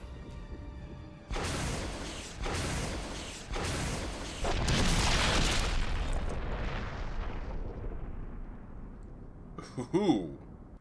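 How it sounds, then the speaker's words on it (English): Explosions in the video game Resident Evil HD Remaster on PC: a series of heavy booming blasts about a second apart, then a long rumbling roar that slowly fades, followed by a short sharp metallic clatter near the end. "Ooh, I see they upped the visuals on the explosion too."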